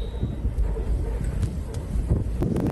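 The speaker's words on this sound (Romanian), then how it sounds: "vântul suflă cu atât de multă putere încât este imposibil să poți să mergi pe jos" Strong mountain wind batters the microphone on the snowbound Transalpina road in winter, a loud continuous rumbling buffet with gusty surges and faint thuds.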